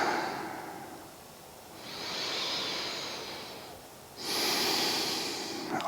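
Slow, audible breaths out during a yoga session: two broad airy exhalations, one in the middle and a louder one near the end, soft and close against a quiet room.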